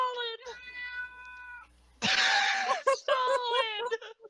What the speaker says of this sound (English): I could hear the cat, too.